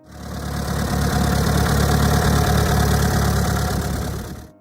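A J.I. Case DC farm tractor engine idles with a steady, throbbing low chug, close and loud, rising in at the start and easing off at the end.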